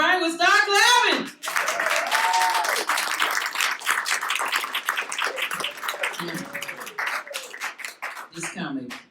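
Comedy-night audience at a veterans' theatre show claps for the next comic, a dense wash of applause running nine seconds, strongest at first and gradually thinning, with a voice speaking over the start and end.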